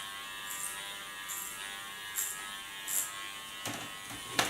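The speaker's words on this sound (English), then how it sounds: "I work till I get above the ears, and then I put a smaller clipper comb on." Electric hair clipper with a clipper comb cutting hair above the ears, a steady close buzz with a few brief bursts as the blades pass through hair.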